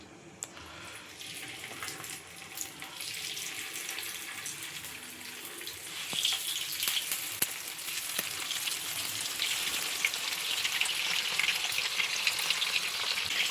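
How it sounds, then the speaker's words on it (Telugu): Tiger prawns frying in hot oil for a pepper fry, a bright, steady sizzle that grows louder as the pieces go in, with occasional clicks and clatter nearby. "ఇప్పుడు మనం ప్రాన్స్ ఫ్రై చేసుకుందాం ఒక్కొక్కటి వేసుకొని."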